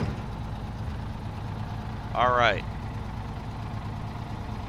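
A truck engine idles steadily in the SnowRunner video game, a low, even rumble running throughout, with a brief spoken remark over it partway through.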